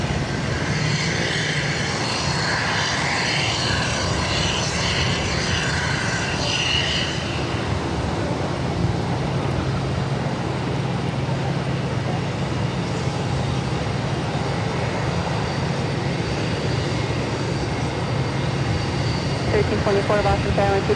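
An American Airlines jet taking off from runway 22 right at Boston Logan, a continuous loud engine roar with a broad low rumble, sustained throughout, with a faint voice earlier.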